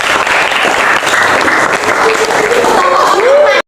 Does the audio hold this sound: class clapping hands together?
yes